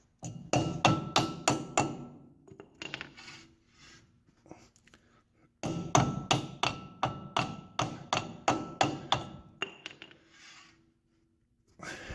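Sharp, ringing brick hammer blows on hard material, struck in quick rhythmic bursts of about a dozen hits, a pause, then another steady series close by.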